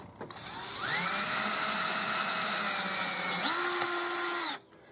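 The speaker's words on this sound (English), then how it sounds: "Just drive some screws straight in, no pilot holes." A power drill fitted with a KnifeEdge bit drives a screw straight into a wooden board with no pilot hole, a single whining motor run of about four seconds that shifts pitch partway through as the screw seats, then cuts off.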